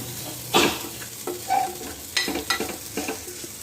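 Two chopped onions fry in a pan for a sprouted chickpea dish, with low sizzling broken by several sharp scraping stirs in short bursts, close and with no talk.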